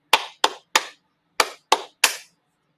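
Hands clap a rhythm during a music lesson: three evenly spaced claps, a short pause, then three more, crisp and close with no talk between them.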